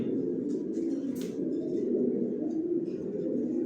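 Pigeons cooing softly in a loft, a low continuous murmur of several birds with a brief flutter near the middle, faint and steady without speech.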